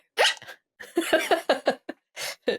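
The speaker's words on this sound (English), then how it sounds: "I get hiccups all the time, constantly, and mine are really super loud." Loud hiccups come in a quick, uneven series of sharp vocal bursts, close and prominent, separated by brief silences.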